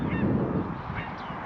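Geese at a bird and nature reserve, a few honking calls over a low outdoor rumble, moderately close and brief.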